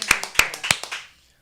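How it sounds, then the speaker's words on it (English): A short burst of handclapping from a small group of audience members, about four or five sharp claps in quick succession that fade out within a second, fairly close and alone. "Give her a round of applause"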